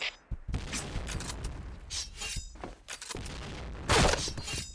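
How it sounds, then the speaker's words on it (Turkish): Grenade tossed and detonating in the shooter game Point Blank, with sharp bursts, shattering crashes and a loud blast near the end amid continuous gunfire and game noise. "Dikkat, bomba atıram."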